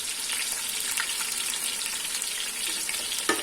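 Onions fry in a pot for beef paya, a steady soft sizzle and crackle with a brief stir or clink near the end, close and unaccompanied by speech.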